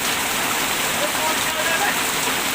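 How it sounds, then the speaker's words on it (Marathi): Heavy rain pours down in the middle of the night, a dense, loud, unbroken roar of water falling steadily on surfaces nearby. "आता हे पाऊस येण्याचे दिवस आहेत का किती पाऊस येतोय"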